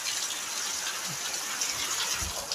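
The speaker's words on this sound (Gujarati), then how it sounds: "મારા રસોડામાં પણ પાણી ગળવા મળ્યું" Water gushes and splashes steadily as it leaks into a kitchen, a continuous rushing stream with faint low knocks underneath.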